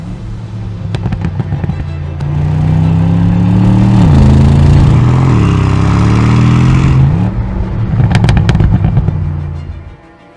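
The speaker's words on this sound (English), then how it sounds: "You could just hear that exhaust." A 2025 Bentley Continental GT Speed with a 771 hp engine, exhaust in sport mode, revs loudly and close, its deep exhaust note rising and falling with sharp crackles and pops at either end.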